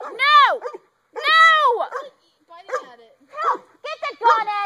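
Dogs going after a skunk give off yelping, whining cries in several bursts with short gaps between them, up close and loud, mixed in with shouting voices.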